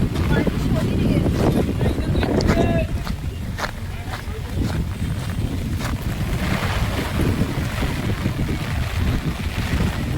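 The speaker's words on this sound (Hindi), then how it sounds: "पूरा फॉग है और तेज हवा चल रही है" Strong wind in fog at Lonavala buffets the microphone with a steady roar, and outdoor noise and a few faint clicks sit underneath throughout.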